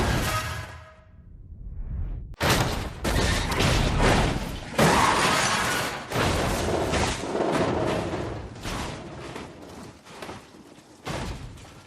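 LEGO train wreck crash, a sudden shattering smash after a brief quiet, followed by a run of clattering bangs, thuds and rattling debris, loud and close over about ten seconds.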